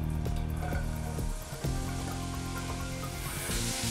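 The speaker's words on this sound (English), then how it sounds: "add 1 large chopped onion" One large chopped onion dropped into hot olive oil in a heated pot, sizzling and frying steadily with some clinks and stirring sounds.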